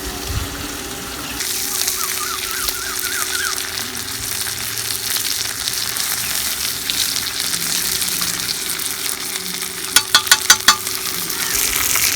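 Goat spleen fries in a pan over low heat, giving a steady close sizzle with occasional stirring clatter and a few sharp scraping knocks near the end.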